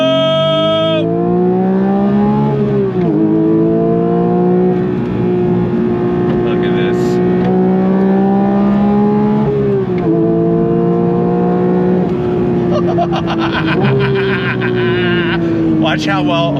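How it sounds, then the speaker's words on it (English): A Porsche 992.1 911 GT3 flat-six engine revs loudly in second gear, its pitch climbing and easing through several surges as it accelerates, with a person talking over the engine note. "the sound of that flat 6"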